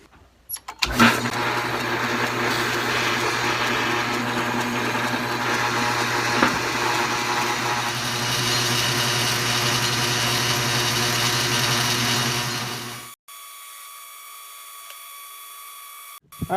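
A metal lathe whirs steadily as a drill bores a hole in a metal latch part, a loud continuous mechanical drone with a low hum that runs for about twelve seconds before cutting off abruptly.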